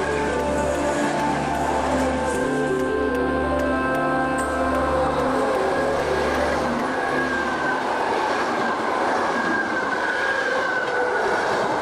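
A Czech Railways class 451/452 electric multiple unit runs steadily with a continuous humming drone and rumbling wheels, loud and close, with a rhythmic beat in the low end and no voices.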